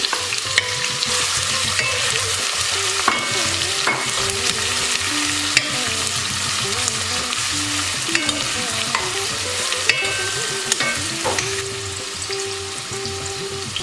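Ground ginger, garlic and lemongrass fry for beef rendang, a continuous close sizzle with steady scraping and stirring strokes against the pan, loud and unbroken, with no talking.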